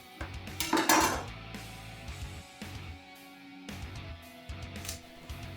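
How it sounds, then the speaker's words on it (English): A kitchen knife cuts through a peeled onion into thick rings on a board, making a few soft crunching thuds and scrapes close by with quiet gaps between strokes. "Next up, we're going to take some nice thick slices."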